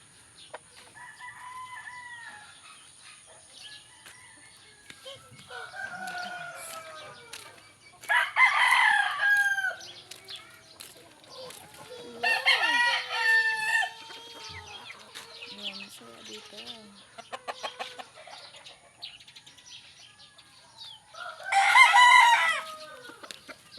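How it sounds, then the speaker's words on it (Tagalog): Chickens in a rainy backyard cluck and a rooster crows loudly several times, nearby and in bursts, with softer clucking and other bird calls between them. "yung manok, ganito kayo."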